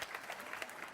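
Crowd applause at a celebration, a faint, steady patter of many hands clapping with slightly uneven pulses, heard alone at low level for a brief moment.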